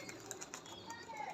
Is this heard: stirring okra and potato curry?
no